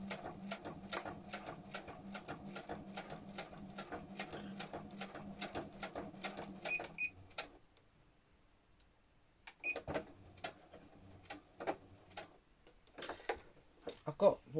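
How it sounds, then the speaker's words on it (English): A home sewing machine sews a stab or lock-in stitch on a fabric needle book. It gives a rapid, even ticking stitch rhythm for about seven seconds, stops for a couple of seconds, then resumes in shorter, irregular bursts. "What I call a stab stitch on my machine."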